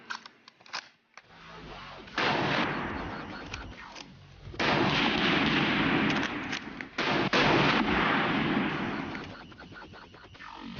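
A WWI machine gun firing: long, loud sustained bursts of rapid automatic fire in several stretches separated by short pauses, close and harsh, with a few isolated shots between bursts.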